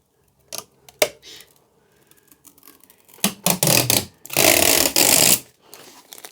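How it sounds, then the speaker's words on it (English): Plastic protective film comes off a car number plate on a Rover 75 with a close crackling tear: a few sharp clicks, then rough bursts building into a loud, sustained rip near the end. "now it's the moment of truth to take the plastic tape off, the plastic protection off"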